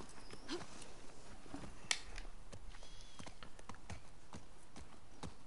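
Horse hooves clip-clopping in The Last of Us Part II, a steady stream of close, sharp hoof strikes in quick rhythm over a constant ambient bed, with no talk.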